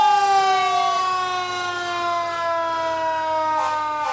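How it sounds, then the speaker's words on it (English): A loud wailing fire engine siren sounds close by during an Independence Day parade, its steady rising and falling tone sweeping slowly downward as the truck passes, with no voices over it. "We have Engine 1 that's driven by John Reed"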